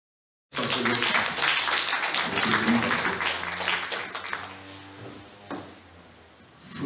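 A church congregation applauding during a sermon, a sudden wash of many clapping hands that holds strong, then thins out and fades, with some sustained tones underneath.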